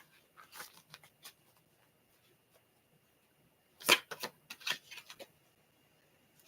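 Tarot cards are shuffled in short crisp bursts: a few light riffles early, a quiet pause, then a louder flurry of snapping card sounds near the end, alone in a quiet room.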